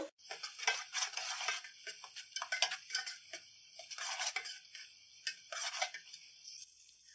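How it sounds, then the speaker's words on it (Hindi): Ginger garlic paste frying in a pan for tori ki sabzi, crackling sizzle mixed with busy spoon scraping and metallic clatter against the pan, close and steady throughout, no speech. "1 मिनट लहसुन अदरक के पेस्ट को फ्राई कर लेंगे"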